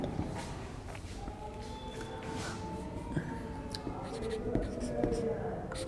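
Chalk or marker scratching a line across a classroom board in a chemistry lesson, steady soft scraping strokes heard close alongside faint background talk and murmur.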